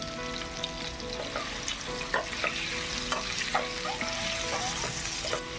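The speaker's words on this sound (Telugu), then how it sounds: "అందుకే ఇలా ఫ్రై చేసుకుంటే బాగుంటుంది." Boiled eggs fry in a pan with chili powder, turmeric and salt, giving a steady close sizzle broken by a few light scraping stirs and clinks over about five seconds, with no talking.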